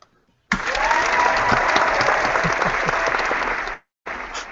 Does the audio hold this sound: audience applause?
yes